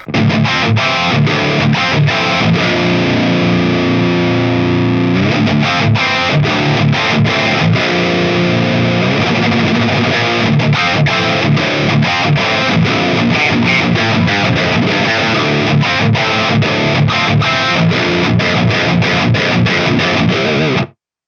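A heavily distorted electric guitar plays the chorus section of a song, thick and loud, with dense sustained chords and steady strummed rhythm throughout and no talking.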